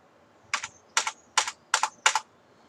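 A computer keyboard typed on in five quick bursts of clicky keystrokes, the last ones landing like Enter presses, close and alone in a quiet room.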